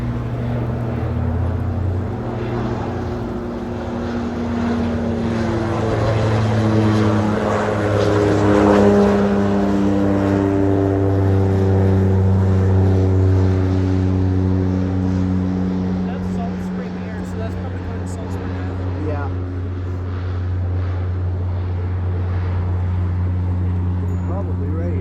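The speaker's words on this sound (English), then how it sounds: "Oh, there's your plane coming." A propeller airplane taking off from or skimming over the water in British Columbia passes close by, its droning engine tone rising and falling in pitch for about twenty-five seconds while onlookers talk over it.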